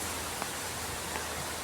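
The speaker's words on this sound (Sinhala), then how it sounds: "හොඳටම වහිනවා මෙහෙට" Heavy rain falls outside, a steady dense hiss with no breaks, close and even throughout.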